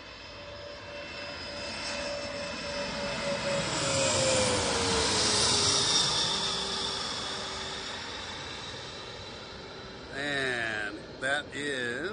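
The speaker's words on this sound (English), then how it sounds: "And here comes a plane." An airplane engine roars in as it approaches to land at Reagan Washington National Airport (DCA), swelling louder as it passes with a falling pitch sweep, then recedes; a voice speaks briefly at the end.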